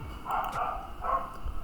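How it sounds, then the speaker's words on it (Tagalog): A dog barks twice from a short distance, two sharp bursts about a second apart over a low background rumble, with no one speaking. "Pero ang restaurant may kumakahol din na aso"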